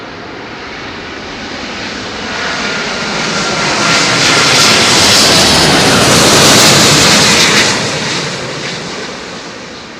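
A large airliner passes low overhead on final approach to London Heathrow runway 27L, a loud broadband engine roar that swells to a peak in the middle and fades as it moves away.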